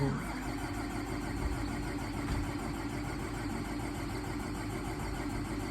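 A Fendt tractor engine cranks and catches, then settles into a steady rough idle nearby.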